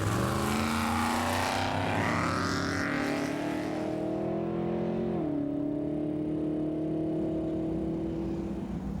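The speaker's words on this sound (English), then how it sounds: "The first class to go off the line is the trophy class trucks." Trophy class desert race trucks, capable of over 150 mph, roar off the start line at the Nevada 1000, engines revving hard and rising in pitch before settling into a loud, steady drone, with no talk.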